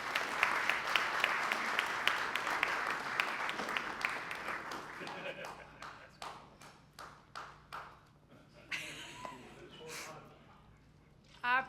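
Warm applause from a Rotary Club lunch crowd welcoming a guest speaker, dense and steady at first, then thinning into scattered individual claps and taps before fading out.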